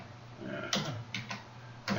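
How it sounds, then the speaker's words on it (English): A few sparse keystrokes sound on a computer keyboard as a password is typed: four or five distinct close clicks spread unevenly over two seconds, with no talk. "Maybe come right here and type in the password."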